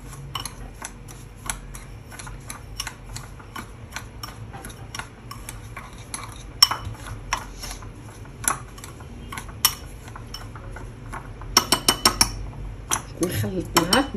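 A spoon stirs cold coffee mixed with water in a glass, making a steady run of light clinks and ticks against the glass that speeds into quick clustered taps near the end.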